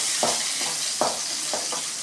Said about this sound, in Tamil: வெங்காயம் நன்றாக வதங்க வேண்டும்.